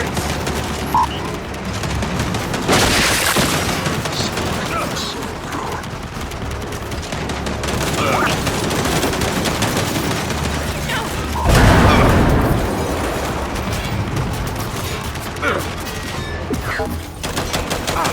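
Gears 5 battle with enemy turrets firing continuously, a dense, loud wall of gunfire and mechanical clatter with a heavier burst near the middle, with shouted voices mixed in.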